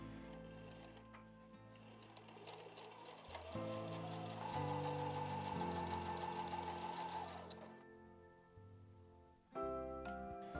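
A sewing machine stitching folded fabric for a round bag, running in a steady fast clatter for several seconds, then pausing and restarting briefly, heard up close and fairly quiet.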